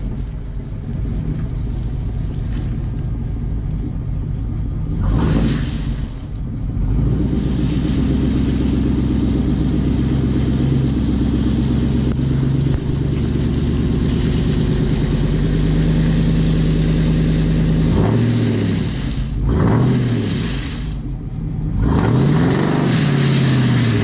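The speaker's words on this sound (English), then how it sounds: "this truck sounds freaking good when you're getting on it" A mud truck engine revs hard near a grown-over mud hole, its steady low drone swelling into several loud throttle bursts and dips with no talking.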